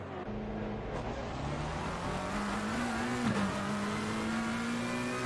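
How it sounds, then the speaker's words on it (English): A Porsche GT3 race car in a sim-racing game at Monza, its engine note droning steadily and rising as the car passes, with a continuous broad road and wind noise underneath. "Porsche going past, actually."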